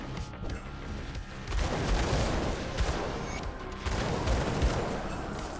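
Dual Aether pistols fire in Grim Dawn amid a busy action-RPG battle, giving a steady wash of rapid magical shots and impacts with rhythmic surges in intensity over several seconds.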